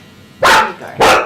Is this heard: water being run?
no